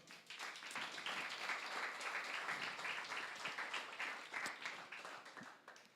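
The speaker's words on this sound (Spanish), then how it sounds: "¿Qué tal si le dan un aplauso al Señor?" A church congregation claps for several seconds in quiet, dense applause heard from a distance. The sound stays fairly even and fades a little at the close.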